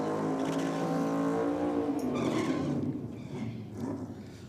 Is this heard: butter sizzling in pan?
no